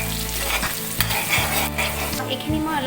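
Chopped onions sizzle and fry in hot oil in a wok, a steady close crackle with stirring scrapes and clatters of the utensil throughout, with no talking.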